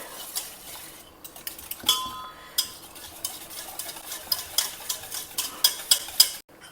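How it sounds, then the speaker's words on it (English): Homemade curd is whisked in a bowl, with a rapid run of metallic clinks and scrapes. The rhythm is fairly regular with brief pauses, close and clear. "Here I have about 2 cups of homemade curd. Now we will just whisk it."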